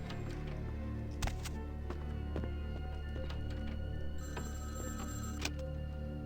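A telephone rings in the video game Vampire: Bloodlines, a steady electronic ringing tone over the game's constant ambient hum, with a few sharp clicks and no talking.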